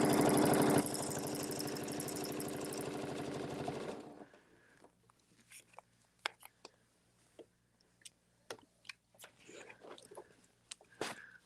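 A sewing machine stitching a fabric seam runs in a loud, fast, steady whir for about four seconds, then stops, leaving scattered small clicks and handling noises close by.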